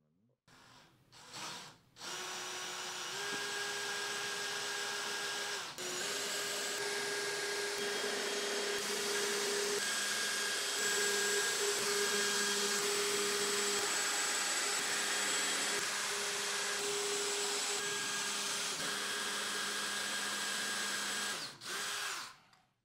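A power drill boring a 5.5 mm hole, apparently in acrylic, whines loudly and steadily for about twenty seconds after a couple of brief starts, then stops.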